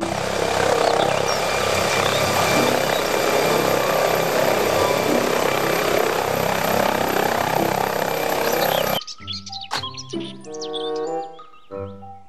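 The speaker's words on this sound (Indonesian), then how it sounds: "Helikopter." A continuous whirring, chopping rotor noise from a toy helicopter, loud and steady, then an abrupt switch to a short electronic melody.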